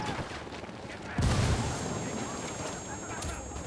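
A grenade explodes in the video game Ghost Recon Wildlands, a sudden loud boom that rolls into a long, rumbling decay, with muffled voices under the noise.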